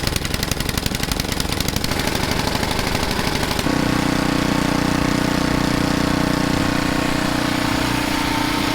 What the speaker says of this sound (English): while that snowblower is warming up back there